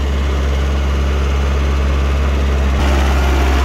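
VST Shakti 927 power tiller engine pulling away under load, a steady loud low droning chug that holds without a break, with a slight shift in tone near the end.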